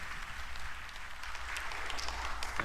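Audience applause at a government policy blueprint event greets a vice chair, a fairly faint, steady patter of many hands clapping, heard at some distance over a low room hum.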